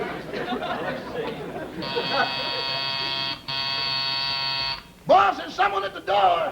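A door buzzer drones in two sustained, harsh electric bursts, the second breaking off after a short gap, with lively talk and voices before and after in a comedy setting.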